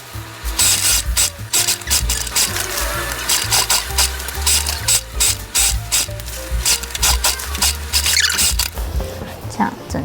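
A sewing machine stitches a one-centimetre seam around a DIY tote bag, starting on a flat section beside thick sides, its rapid mechanical clatter running loud and close in bursts with brief pauses.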